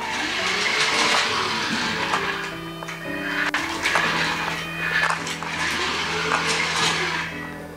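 Kyosho EGG Mario radio-controlled car, reported as defective on arrival, whirring through a left corner, its high-pitched motor whine rising and falling in repeated sweeps, close by and moderately loud.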